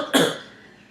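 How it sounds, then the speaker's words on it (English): One short, sharp cough from a patient during a nursing health assessment, heard close and alone, with a brief breathy tail fading out. "I'm still coughing, and I keep coughing stuff up"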